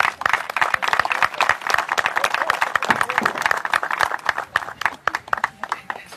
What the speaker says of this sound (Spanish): Fuerte el aplauso para Yamir